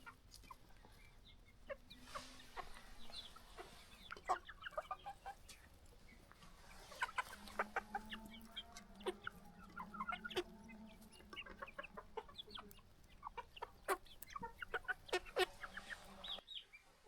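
Chickens cluck and chatter close by in a free-range village flock, with scattered short calls, a few drawn-out notes and a soft background hum.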